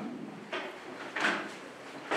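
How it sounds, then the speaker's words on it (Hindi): Chairs are dragged and shifted across a floor in a room, with three separate scraping bursts of moderate loudness and quiet between them. "आप ये कुर्सी पीछे से हटा लीजिए"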